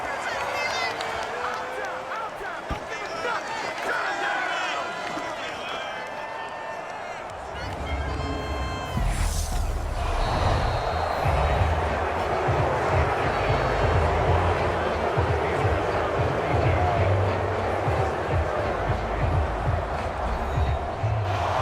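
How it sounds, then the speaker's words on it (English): A stadium crowd roars as a game of American football ends in a video game. The crowd noise swells midway and stays as a broad, loud rumble, with a commentator's voice speaking over it throughout. "So this crowd will not go home happy."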